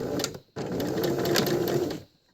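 A sewing machine runs a seam on a tee with a quarter-inch seam allowance: a brief burst of stitching, a short pause, then a steady close run of about a second and a half before stopping.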